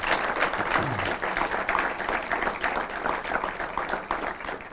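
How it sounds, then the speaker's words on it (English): A round of applause from an audience at a talk, a thick, continuous clatter of many hands clapping at steady, fairly loud level throughout, with a brief voice at the start. "Please put your hands together. Round of applause for him."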